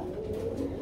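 Pigeons at a pigeon market give a steady low cooing murmur through the short moment, fairly close and continuous.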